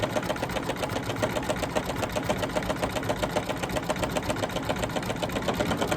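An embroidery machine stitching a zigzag outline on a fabric Easter bunny table runner, a steady, close, rapid mechanical whirring and clatter with a fast even needle rhythm throughout.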